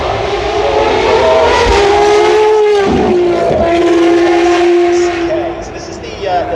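A Ferrari FXX K Evo race car screams past up close with a loud, high-pitched engine howl that rises and shifts through the gears. Crowd noise and voices surround it, and the sound fades toward the end.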